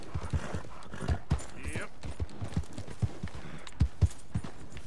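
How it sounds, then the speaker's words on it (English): Horse hooves clip-clop in Red Dead Redemption 2 as a horse is eased down near a cliff edge, a steady near walking rhythm of light thuds, with brief spoken words over it. "You gotta find a way down here without killing you, horse."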